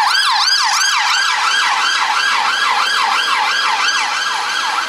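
A Russian police car siren on the streets of Newquay, Cornwall, wails loud and close in rapid rising-and-falling sweeps, repeating steadily throughout with no talk.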